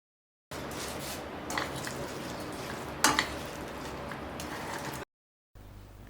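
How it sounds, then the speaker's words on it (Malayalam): Fried cauliflower being stirred into Korean sauce in a pan: a close, moderate sizzle with a few sharp utensil scrapes against the pan, ending abruptly before a short quieter tail. "നമുക്ക് വറുത്ത കോളിഫ്ലവർ ഇതിലേക്ക് ചേർത്ത് മിക്സ് ചെയ്യാം."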